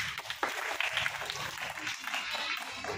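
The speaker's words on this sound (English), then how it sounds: "Clap your hands." Children in a classroom action-words game clap their hands together, a busy patter of uneven claps from a group, fairly close and lasting the whole moment.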